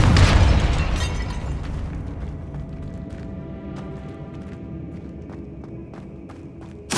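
Confringo fire spell cast in the Hogwarts Legacy video game: a loud explosive burst at the start that rumbles and decays over several seconds into a lingering low roar, with small crackling pops and a second sharp hit at the very end.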